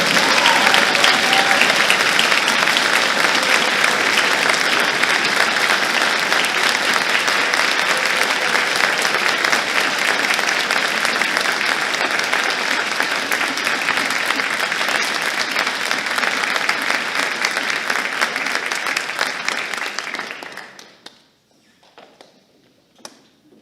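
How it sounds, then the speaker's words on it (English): Sustained audience applause at a high school spring orchestra concert, loud and steady for about twenty seconds before quickly dying away into near silence. "Let's give a giant round of applause for these."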